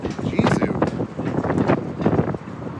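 Loud, gusty wind buffeting a microphone with rumbling bursts throughout, while people talk beneath the noise, outdoors at Independence Hall at Knott's Berry Farm.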